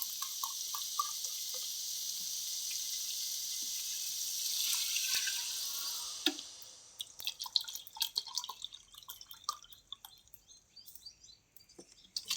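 Water pours steadily into a pot of rice for vegetable pulao for several seconds, then tapers into scattered drips and small splashes, close by with no talking.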